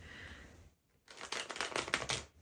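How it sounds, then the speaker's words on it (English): Tarot cards shuffle nearby in a quick, crisp riffling burst that follows a brief pause, lively and fairly loud after a quieter opening. "I'm turning it down a little while it's shuffling"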